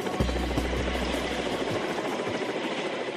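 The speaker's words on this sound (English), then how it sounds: "The Ka-32 civil version was used for transporting cargo." A Kamov Ka-32 civil cargo helicopter drones with a steady engine and rotor hum, a moderately loud, continuous sound with faint pulsing throughout.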